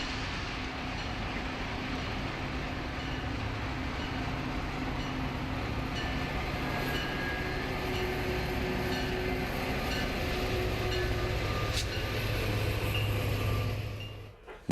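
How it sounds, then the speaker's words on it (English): Metra commuter trains roll through the busy Chicago junction where the Milwaukee District and Union Pacific West lines cross at Tower A2, a steady, loud rumble of wheels and cars that stays constant for the whole stretch and fades slightly at the end. "trains on the Milwaukee District and Union Pacific West lines cross each other"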